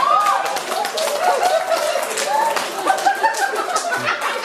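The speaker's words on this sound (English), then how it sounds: "A round of applause for the bride, please." Wedding guests clap for the bride during the reception speeches, a dense patter of hands mixed with chuckles, laughter and murmured voices that continues steadily throughout.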